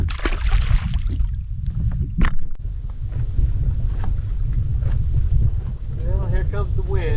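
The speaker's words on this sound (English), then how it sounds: "Well, here comes the wind." Wind gusts over a lake buffet the microphone in a steady low roar, with brief clatters from a boat and faint voices in the background.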